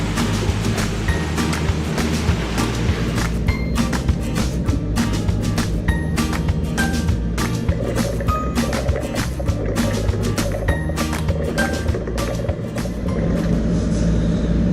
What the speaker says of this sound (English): Gotta love motor sailing